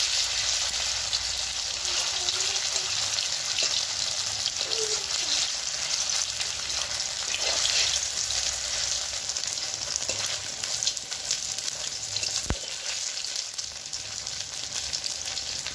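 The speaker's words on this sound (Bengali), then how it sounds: "এই যে রোল করা ময়দাগুলো দিয়ে দেবো তেলের ভিতরে।" Rolled maida dough pieces deep-fry in hot oil, giving a dense, continuous loud sizzle and crackle that stays steady throughout, heard up close with no voices.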